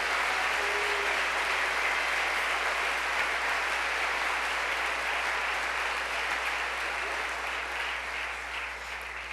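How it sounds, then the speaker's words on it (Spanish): A church congregation applauds loudly during a sermon, a dense continuous roar of many hands clapping that stays strong for several seconds before easing slightly at the end. "Vamos, apláudale con fuerza al Señor."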